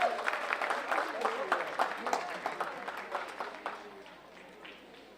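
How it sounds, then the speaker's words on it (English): Audience applause at a first-year university convocation ceremony, a dense patter of scattered claps that stays steady and then fades toward the end, with voices murmuring underneath. "Give yourselves a round of applause."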